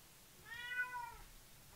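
An elderly house cat lets out one drawn-out, complaining meow, quiet and fairly close against a hushed room.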